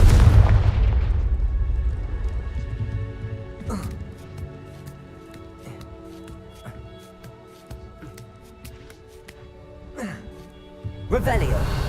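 A Confringo spell in Hogwarts Legacy opens with a deep booming blast that fades into a ringing, shimmering magical tail with scattered crackles. A second rumbling burst comes near the end.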